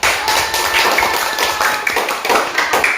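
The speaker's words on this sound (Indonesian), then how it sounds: "beri aplaus untuk Adrian Bawamenewi" Loud, dense classroom applause from a group of students clapping for a classmate, sustained steadily for about three seconds with no talk over it.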